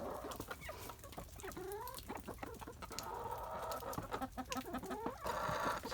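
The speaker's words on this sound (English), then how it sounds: "Chickens are so funny." Several chickens cluck and squawk in short, irregular bursts, close by, outdoors during an ice storm, with soft background rustling and no human voices.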